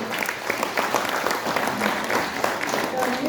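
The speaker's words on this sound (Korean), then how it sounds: "예, 감사의 박수 한번 주시고요" An audience applauds at the launch rally of a national movement calling for the dissolution of political parties, a steady dense wash of clapping with voices mixed in throughout.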